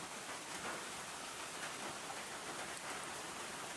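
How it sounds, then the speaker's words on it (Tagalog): Soft, steady rain patters on surfaces, a continuous gentle hiss of falling drops with no other sounds. "hindi naman malakas yung ulan. Halos ambon-ambon lang"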